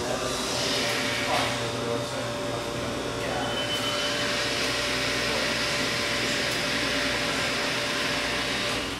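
A hydraulic elevator from Minnesota Elevator, with a Reflex 3.14 controller, levels at a landing. Its pump and motor give a loud, steady, droning hum with a faint tonal whine that holds unchanged for the full stretch.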